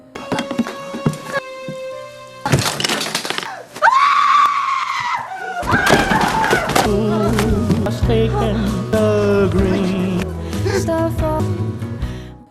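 A girl screams in a Korean thriller film, several loud shrill cries breaking out over tense score and scuffling, with a long sustained wail in the middle and dense dramatic music filling the rest.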